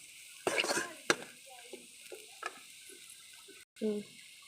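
Cabbage and vegetables stirred in a hot pan for egg noodles, with short scraping strokes and soft sizzling bursts at a low level, separated by quiet gaps.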